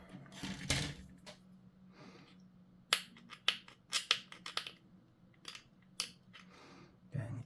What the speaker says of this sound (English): I've gone and picked up my old cutters again, and you can see how rough the cut is that I'm getting